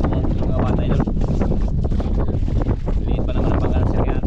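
Strong wind gusts buffet a small fishing boat out at sea during a late-afternoon grouper trip, a loud, steady roar of wind noise across the microphone with the boat's rumble beneath and a voice talking over it.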